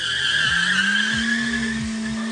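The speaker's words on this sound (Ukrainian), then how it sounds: "Бернаут." Volkswagen Eos doing a burnout, a loud high tire squeal held steadily over engine tone, close and sustained for a couple of seconds.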